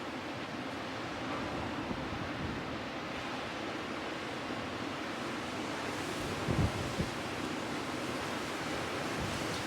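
Wind buffeting a microphone outdoors at the North Head lighthouse, a steady broadband rush that fills the whole stretch, with a few brief louder gusts near the middle and no talking.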